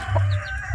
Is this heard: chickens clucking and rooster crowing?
yes